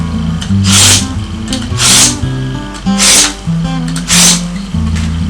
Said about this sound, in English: This is the AccuSharp sharpener.